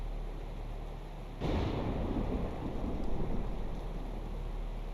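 Rain and rolling thunder in the horror game Neverending Nightmares, a steady low rumble that swells suddenly and stays loud and dense to the end, with no talk.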